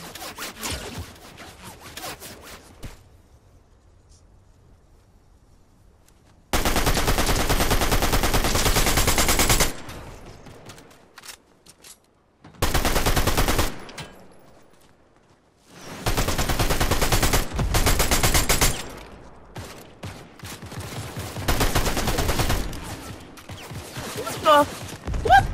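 Bursts of video game gunfire in a ranked match, several loud rapid automatic volleys separated by quiet gaps, with a voice talking at the start.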